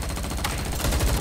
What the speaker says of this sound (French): Merde, j'ai tiré sur un allié.